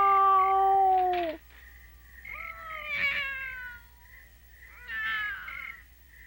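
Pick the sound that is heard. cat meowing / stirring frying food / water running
cat meowing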